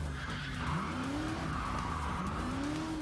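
Cars skid and squeal their tires during an illegal street race at a stadium car park, rising tire shrieks over a steady engine roar heard from some distance, with no talk.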